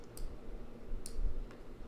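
Sharp computer mouse clicks, two or three spaced taps while a spreadsheet column is dragged wider, close and fairly quiet over faint room hiss.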